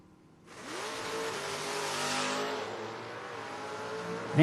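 Door-car drag racers, one a Camaro, launch from the line with a sudden loud engine roar that climbs in pitch and holds a sustained, strained rev.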